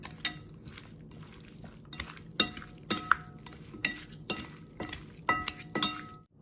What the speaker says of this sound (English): We're gonna mix.